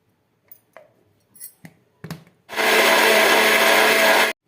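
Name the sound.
mixie blender grinding masala with water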